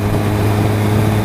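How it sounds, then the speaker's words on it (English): A Triumph motorcycle's unrestricted exhaust hums steadily while riding, a dense continuous low drone with a strong resonant tone and wind rush, loud and close throughout the short stretch. "And Triumph's kind of renowned for having their own sort of nice resonating hum."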